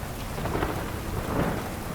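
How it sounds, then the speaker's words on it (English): Steady rain pours down during a mountain shower on the GR 20 trail, turning toward hail, with low rolling thunder rumbling beneath the dense, constant hiss of drops. "Showers are approaching again. In a few moments, it will transform to a hailstorm."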